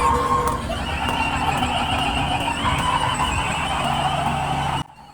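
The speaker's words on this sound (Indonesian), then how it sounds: "yang bikin nggak seru itu back sound dari pasar malam ini" Busy night market ambience with a steady, eerie tonal drone and shrill whinny-like squeals over a dense crowd-and-machinery wash, loud and continuous before cutting off abruptly near the end.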